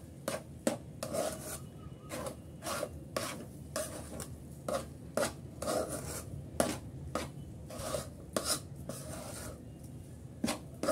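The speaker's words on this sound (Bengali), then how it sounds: "সুজি দিয়ে আমি ভালো করে নেড়েচেড়ে একটু মিক্স করে নিচ্ছি।" Semolina is stirred and mixed in a pot, giving a close, rhythmic series of scraping and rubbing strokes over a soft background sizzle.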